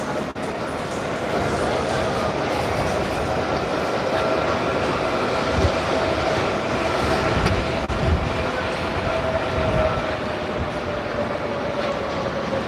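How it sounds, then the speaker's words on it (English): A tram rumbles steadily past on street rails at night in Gothenburg at close range, a continuous rolling roar with faint wheel noise, no voices. "No, they are not bus, they are tram."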